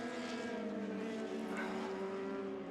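Vintage race cars in an SVRA feature race at Circuit of the Americas roar steadily at a distance. The engines blend into a sustained, droning whine with no pauses.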